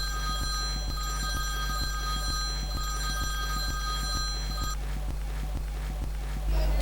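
A telephone rings repeatedly in a steady electronic pattern, fairly loud and close, with a low rhythmic hum underneath; the ringing stops near the end.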